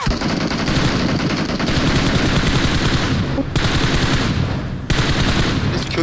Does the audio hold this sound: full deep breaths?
no